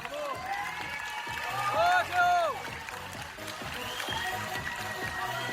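At a bodybuilding grand prix in Provence, an audience applauds as bikini competitors leave the stage. Steady, moderate clapping and crowd noise run under a voice throughout.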